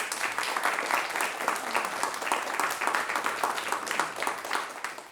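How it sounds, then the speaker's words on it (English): Audience applause at a game developer conference talk on deep learning and computer vision, dense sustained clapping from a crowd throughout, without speech. "Can we get another round of applause for Creikey?"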